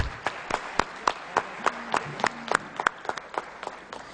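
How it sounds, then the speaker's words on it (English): A large seminar audience at a chartered accountancy education event breaks into steady, sustained applause, the sharp claps dense and even throughout with no voices over them. "with a big round of applause"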